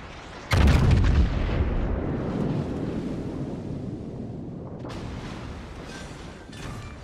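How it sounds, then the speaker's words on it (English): A heavy battleship main-gun salvo in World of Warships, aboard the Musashi, bursts out as a loud, booming blast near the start, then trails off into a long rumbling, wind-like wash with a faint crack later on. "the next salvo should just take care of that"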